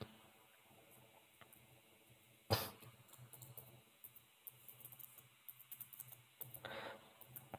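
Keys clatter on a computer keyboard as a short statement is typed into a Jupyter notebook on Windows, with a sharp knock early, then quiet irregular taps building into a faster run of close keystrokes.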